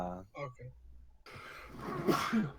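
A single sneeze breaks out after a short spoken word, close and fairly loud, followed by a little breathy noise and talk.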